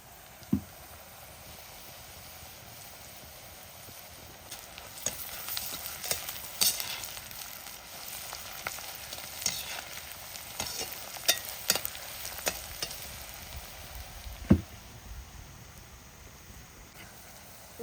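Onions sautéing in a pan over a wood fire, a steady soft sizzle with scattered clicks of stirring and a few sharper knocks, fairly faint and steady throughout with no speech.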